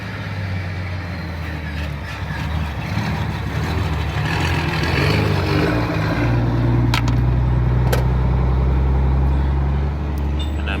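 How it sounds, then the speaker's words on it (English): Heavy trucks at a construction site rumble past outside with deep, loud engine drone and shifting gear tones, a couple of sharp clanks near the end, and no speech. "there's going to be a lot of dump trucks going by because they're doing some construction"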